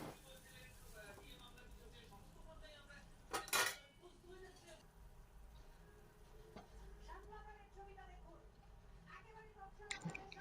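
Water goes into a pan of soya chilli and a spoon stirs it, producing sparse close clinks and taps of metal on the pan with one sharp clatter early on, while a voice talks quietly underneath.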